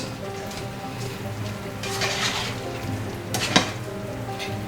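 Thai coconut chicken sizzles and fries in a pan on the stove, a steady crackling hiss broken by a couple of louder scraping tosses of the pan, close up with no voices.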